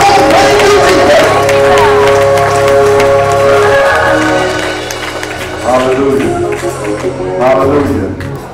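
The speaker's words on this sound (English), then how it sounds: "So come on, clap your hands and tell God, thank you for how you made me" A church congregation claps hands together in a loud, sustained stretch, with music and voices running underneath and a brief dip in level partway through.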